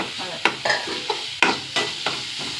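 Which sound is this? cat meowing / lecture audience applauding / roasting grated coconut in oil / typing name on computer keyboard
roasting grated coconut in oil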